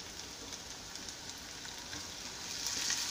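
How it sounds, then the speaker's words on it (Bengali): Garlic paste sizzling as it goes into a hot frying pan while cooking an aloo paneer curry, a steady faint crackle and hiss with no talk, swelling slightly louder toward the end. "এবার আমি এই রসুন বাটা দিয়ে দিচ্ছি।"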